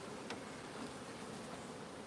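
Honeybees buzzing around an apiary hive holding five frames of bees, a soft, continuous hum with a few brief louder passes of individual bees close by.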